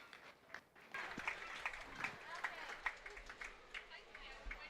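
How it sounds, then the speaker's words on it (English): A county fair crowd applauds kids showing a group of market barrows in the show ring, a scattered, moderately distant patter of clapping with a voice talking over it. "let's give all these kids a big round of applause on a nice group of market barrows"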